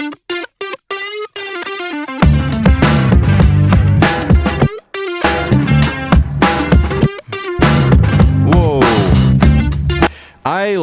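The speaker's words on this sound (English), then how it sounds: "And then with electric guitar, we try to re-record the melody of this saxophone" Electric guitar replaying a saxophone melody through effects such as distortion and chorus, loud and sustained with a full backing beat, in phrases broken by short pauses.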